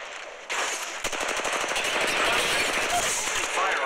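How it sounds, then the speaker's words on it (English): Rapid automatic gunfire from Apex Legends Mobile, a dense continuous stream of shots that starts with a burst and stays loud throughout, with game voices mixed in. "They're shooting at me."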